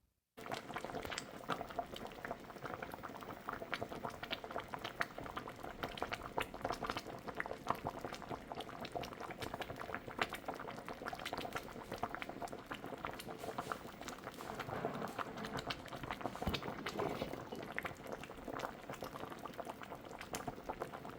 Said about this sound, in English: After that, we'll cover it up and allow it to continue cooking on a low heat.